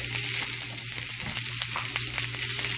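Onions frying in a pan give a continuous, close sizzle with a low hum underneath, and a few soft scrapes mark them being stirred.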